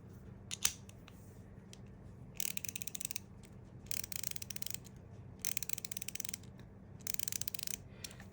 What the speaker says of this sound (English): it's very light, it's very small, and it has the ratchet mechanism.